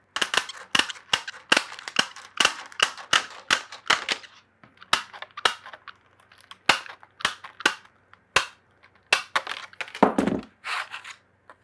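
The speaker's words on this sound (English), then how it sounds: "I'm gonna cut these out with some tin snips here" Tin snips bite through sheet metal in a run of crisp, sharp snaps, around two dozen close cuts in an uneven rhythm with short pauses, no voices present.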